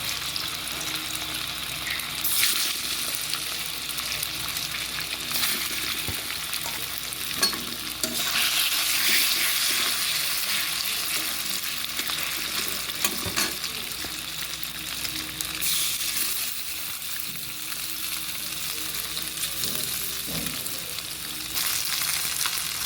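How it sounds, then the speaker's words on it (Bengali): Fish pieces frying in hot oil in a wok while making chilli fish, a steady close crackling sizzle with occasional stirring scrapes throughout, no talking. "তেল দিয়ে মাছগুলি ছেড়ে দিচ্ছি মাছগুলিকে ভালো করে ভেজে নেবো"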